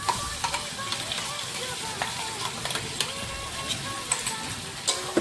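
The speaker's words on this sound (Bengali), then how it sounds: "ভালো করে মশলাটা কষে নেব।" Ground spice paste with salt and turmeric sizzling in a pan with chicken, a crackling fry punctuated by irregular stirring scrapes and small pops, close and moderately loud.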